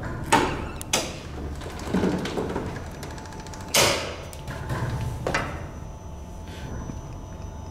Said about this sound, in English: We're gonna lift this up.